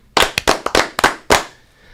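A quick run of sharp, close hand claps in an uneven rhythm, some landing in near-double strikes, ending with one last clap and a short fade into quiet.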